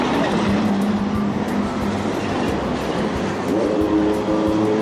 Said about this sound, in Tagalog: That's a real motor, guys.